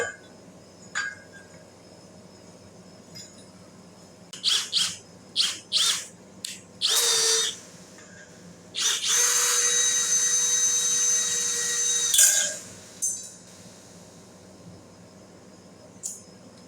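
Drill with a dull pilot bit boring into metal while building a three-point trailer hitch: several short whirring bursts, then one longer grinding run of about three seconds, close by.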